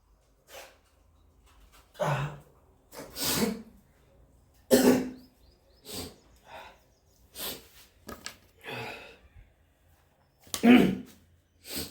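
Someone coughs and clears their throat in scattered short, harsh bursts spread across a quiet background, a dozen or so separate hacks at irregular intervals.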